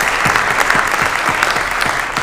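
Conference audience applauding after a talk on start-ups overcoming insularity, a dense, loud, continuous wash of many hands clapping close by with a few sharper individual claps standing out.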